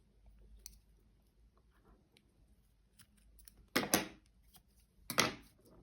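Scissors cut yarn while a crocheted amigurumi star is being made, soft small rustles followed by two distinct crisp snips, close by and quiet.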